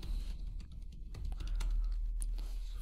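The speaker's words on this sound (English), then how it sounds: "you can type here" Fingers type a search on a computer keyboard in quick, irregular clicks over a low background hum, close and fairly soft.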